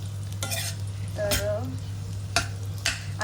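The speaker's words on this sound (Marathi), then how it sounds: "खजूर आणि अंजीर घेतलं आहे मी तुपात भाजून घ्यायला" Dates and figs roast in ghee in a pan, a low sizzle broken by a few distinct stirring scrapes of a spoon, with a steady hum underneath.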